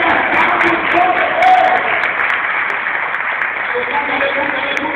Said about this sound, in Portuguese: Cadê as palmas do povo?